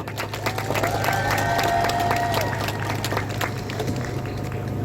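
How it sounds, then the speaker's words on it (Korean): Outdoor crowd clapping and cheering at an election campaign rally for a National Assembly candidate in Seogwipo, Jeju, steady and fairly loud over a low hum, with a few voices mixed in. "그래도 박수 한번 주십시오."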